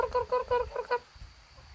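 A few short clucking calls from chickens in a quick burst, fairly close, then quiet with a low outdoor rumble.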